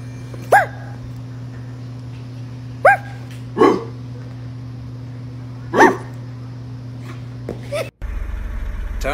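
Four short, sharp dog barks spaced irregularly over a steady low electrical hum, followed by a sudden shift in background noise.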